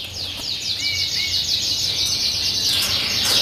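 Yorkshire canaries chirp in a bird shop, short bright calls repeating over steady background noise, the birds close by with no talk.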